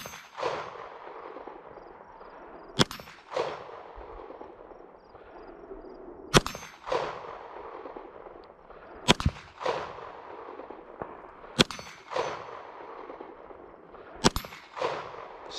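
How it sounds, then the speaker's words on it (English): Glock 17 Gen 3 pistol fired at night with a weapons light attached, about 25 to 30 feet from the target: five sharp, loud shots spaced a few seconds apart over a steady background rumble. "taking a couple more shots with this Glock 17 Gen 3 and the ThruNite TW10 weapons light"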